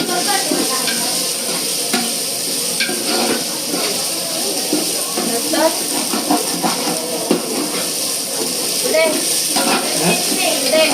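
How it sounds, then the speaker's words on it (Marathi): Finely chopped tomatoes fry in a Kokani village-style chicken curry, producing a steady close sizzle with clinks and scrapes of stirring; a voice talks faintly at times underneath. "बारीक चिरून घालून तर टोमॅटो टाकायचं"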